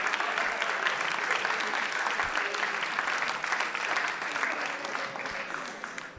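Audience applause at a live comedy show: a dense, steady wash of many hands clapping, fairly loud and even throughout, tapering slightly toward the end, with no one talking over it.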